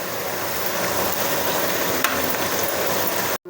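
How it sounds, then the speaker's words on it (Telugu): Okra pieces coated in masala frying in hot oil while being stirred, a steady broadband sizzle throughout with a faint scrape, cutting off abruptly at the end. "తిప్పుతూ ఉంటాను"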